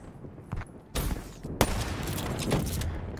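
Sniper rifle shots in a video game sniper battle: a few sharp, loud cracks spaced apart, each trailing into a rumbling echo over steady low background noise, with no talking.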